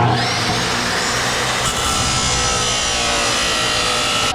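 A metal bar being cut before welding, heard as a loud, continuous, steady power-tool cutting noise close by, unbroken for the whole stretch with no talking.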